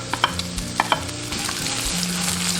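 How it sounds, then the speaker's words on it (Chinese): Dried seafood stir-fried in rendered pork-belly fat in a wok, a steady close sizzle with a few sharp scraping clacks of the spatula early on, settling into continuous frying hiss. "接着下入海鲜干货炒香。"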